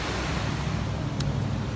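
Ocean waves on the California coast give a steady broadband surf rush mixed with wind noise, continuous and fairly loud, with no voices.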